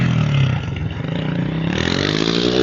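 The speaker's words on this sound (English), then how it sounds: "I don't know where all the traffic's coming from." Road traffic passes close by, led by a motorcycle engine that accelerates with a rising drone over a background of clattering road noise. No one speaks.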